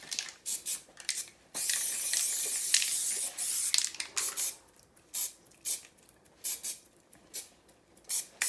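Spray paint can spraying for spray paint art, a sharp airy hiss in irregular bursts: one long continuous spray early on, then a series of short puffs with gaps between them, close and clear.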